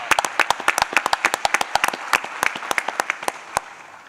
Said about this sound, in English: let's give all the fans as well a big round of applause for supporting the team